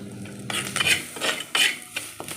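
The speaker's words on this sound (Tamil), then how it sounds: "ஓகே, ரசம் தாளித்து ஊற்றியாச்சு" Hot tempering hits rasam in a heated clay pot: bursts of sizzling and scraping, clinking utensil sounds in uneven spurts, close and fairly loud, with no voices.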